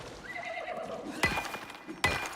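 A horse in the survival video game Icarus neighs and whinnies, then hooves clip-clop in two sharp bursts, fairly close and clear with no talking over it.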